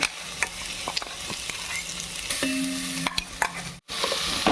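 Ginger garlic paste sizzles steadily in a hot pan for mushroom biryani, with a spoon scraping and stirring it in sharp, irregular strokes close by.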